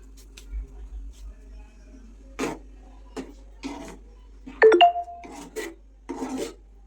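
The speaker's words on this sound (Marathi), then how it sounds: "आता यामध्ये थोडीशी कसुरी मेथी क्रश करून मिक्स करते" Dried fenugreek leaves (kasuri methi) are crushed by hand over a pan of paneer tikka masala, giving several short dry rustling crackles in bursts, close and fairly quiet, with a brief tonal beep among them.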